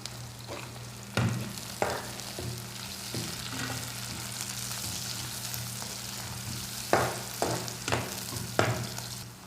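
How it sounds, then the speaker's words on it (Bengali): Onions and green chilies fry in a pan for a leafy greens dish, with a steady soft sizzle under a hum and scattered sharp clacks of a utensil on the pan. "এই যে পেঁয়াজ হয়ে উঠছে, এখন কাঁচামরিচ দিয়ে দিতেছি।"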